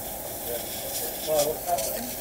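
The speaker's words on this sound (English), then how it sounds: "just give me one last spray" An aerosol can of freeze spray used in a repair sputters as it runs empty. It gives a couple of short, weak hissing bursts under a person's talk.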